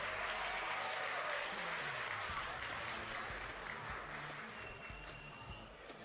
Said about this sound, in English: let's give, I think, from the crowd, a round of applause for our finalist